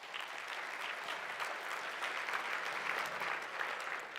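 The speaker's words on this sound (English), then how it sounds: "Let's give them a round of applause." Audience at an SRI investing conference applauding, a steady wash of many hands clapping at moderate distance for a few seconds, with no voices over it.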